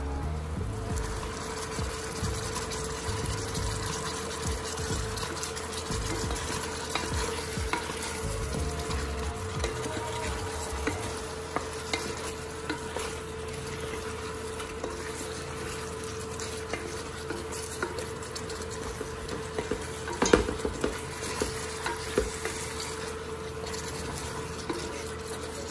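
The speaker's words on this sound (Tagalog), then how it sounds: "tatakpan lang natin muli at isisimmer natin for another 10 minutes" Chicken wings simmer in a covered pan, giving a steady low bubbling and frying hiss, faint and continuous, with an occasional soft clink, no voices.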